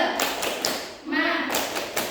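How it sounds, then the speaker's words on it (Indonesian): A class of ninth-grade students claps a rhythmic cheer routine together, a short run of sharp, close claps mixed with loud group voices chanting. "Ibu mau lihat semangat kalian dulu nih melalui tepuk semangat ya bersama-sama."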